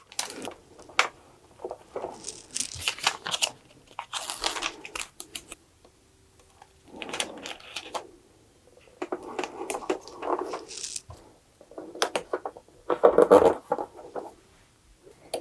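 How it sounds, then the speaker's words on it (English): A small foil transfer sheet being taped down, with repeated tape pulls, rips and crinkly handling noises in irregular bursts, close and fairly quiet, with pauses between. "So I'm just going to tape a smaller sheet in the center."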